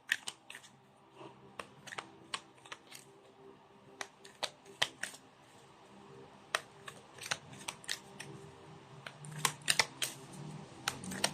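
Tarot cards are shuffled by hand in a quiet room, giving a string of crisp clicks and riffling snaps that grow busier and louder toward the end.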